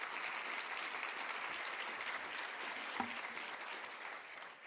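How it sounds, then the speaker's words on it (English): Sustained applause from an audience at an ACEs summit, steady and moderately loud, fading slightly at the very end. "Let's give them another round of applause."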